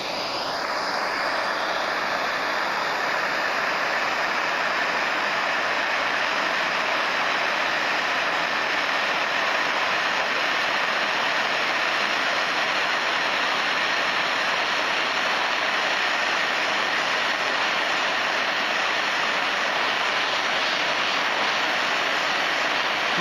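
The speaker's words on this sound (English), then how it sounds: "And you can try and cure it with a butane torch as well" A butane torch flame heating painted metal standing in for an exhaust part, with VHT Flameproof paint being cured: a steady, loud broadband roar that starts with a brief ignition hiss and holds evenly throughout with no talk.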